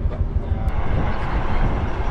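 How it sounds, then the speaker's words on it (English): A train crossing the Nine Arch Bridge in Ella, Sri Lanka, heard as a loud, continuous low rumble of rolling wheels and carriages with faint rhythmic clatter, steady and close. "So watch the train go across."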